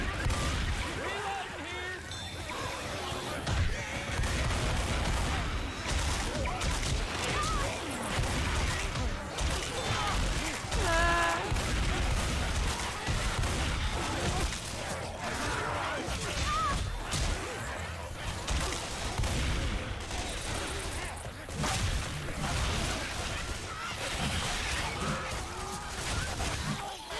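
Rapid video game gunfire crackles and snaps continuously amid whooshes, crashes and mechanical clatter, dense and loud, with a voice talking intermittently over the action.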